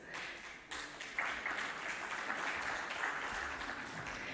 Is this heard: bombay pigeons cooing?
no